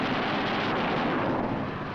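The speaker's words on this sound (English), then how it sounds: "With a touch of the finger on the stick, a camera and 8 machine guns are put into action." A WWII P-47 Thunderbolt fighter fires its eight wing-mounted machine guns, heard as a dense, continuous roaring rumble on an old film soundtrack, loud and unbroken for the whole stretch.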